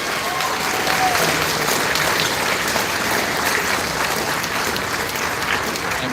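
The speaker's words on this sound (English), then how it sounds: "Let's give a round of applause for all those congratulations" Even, sustained audience applause at a closing ceremony, a dense wash of clapping from a large crowd with no talk over it.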